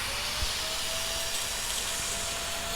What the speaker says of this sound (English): So I'm spraying the solution now.